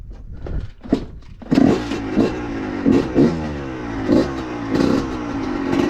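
A freshly rebuilt two-stroke engine, already warmed up and on choke for break-in, pops and revs in repeated short bursts of uneven blips over a steady idle, close and loud, with no talk.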